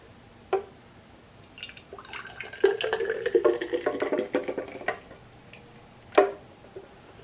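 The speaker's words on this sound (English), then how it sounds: "I'm gonna give it a pour into my cup" A blended coffee frappe pours into a cup as a few seconds of close, thick liquid gurgling and dribbling, bracketed by brief clinks at the start and end.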